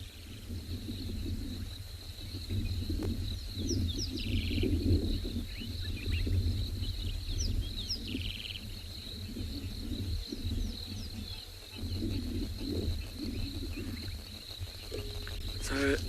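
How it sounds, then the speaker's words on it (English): Many frogs of several species call together in the South African bush after rain, a dense continuous chorus of trills and chirps with insect-like buzzing, steady and fairly loud with no talking. "I want you to listen to all the frogs that are calling around"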